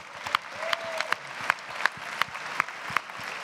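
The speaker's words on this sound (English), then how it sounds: "Yeah, you guys can clap for those guys." An audience at a church gathering claps sparsely, with distinct sharp claps standing out at a steady rhythm over a soft bed of scattered clapping and faint voices.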